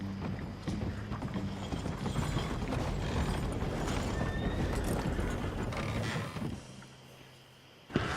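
Horse hooves clip-clop steadily with a neigh and creaking tack in Red Dead Redemption 2, the riding sound close and continuous before easing off near the end, no talk over it.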